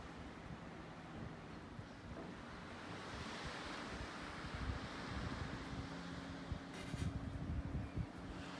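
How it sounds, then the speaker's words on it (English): Gulf of Mexico surf rolls in steadily on Fort Myers Beach, a continuous broad wash of breaking waves mixed with gusty wind buffeting the microphone, with no voices. "I'm sure you can hear the waves."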